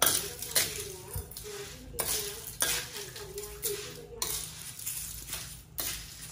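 Metal utensils scrape and clink against a wok in repeated stirring strokes while cooking shellfish, with a faint sizzle underneath, fairly quiet and close.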